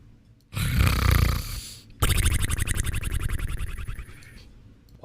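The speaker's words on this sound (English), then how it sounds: "Why is he snoring like that?" Loud, rasping snores from a character in a Western-style video game role-play server, two long drawn-out snorts in succession, the second breaking into a rattling, buzzing flutter.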